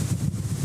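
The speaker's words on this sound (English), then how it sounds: "Wow, very windy." Strong wind buffets a camera microphone outdoors despite foam and furry windscreens, a steady low rumbling roar with no pauses, recorded while looking over a 1997 Toyota MR2 GT Turbo.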